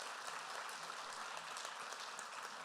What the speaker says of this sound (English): Can we have another round of applause for our amazing speakers,